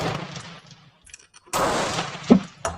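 Black powder rifle shot from a Werndl 1867/77 loaded with 75 grains, a sharp loud blast with booming decay, followed by a second strong report and echoing tail outdoors.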